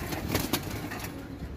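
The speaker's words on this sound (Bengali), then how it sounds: "এইটা হইতাছে একটা চিলা নর কবুতর" A male pigeon cooing close by, a few soft rhythmic coos over a light background hiss.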